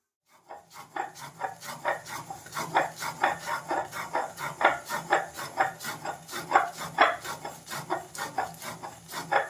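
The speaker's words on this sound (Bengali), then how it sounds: "কারেন্ট নেই বলে পাটাই বেটে নিচ্ছি" Ghugni spice mix is ground by hand on a stone slab, giving a rapid, regular series of gritty rasping strokes that carry on close and steady after a short silent start.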